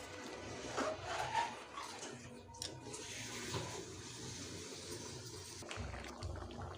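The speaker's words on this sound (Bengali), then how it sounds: "এবারে দিয়ে দেবো পরিমাণ মতো জল" Water is poured into a pan of ghugni with its fried spices, a gushing, splashing rush that stays fairly faint and steady for several seconds.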